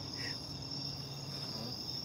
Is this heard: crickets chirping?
yes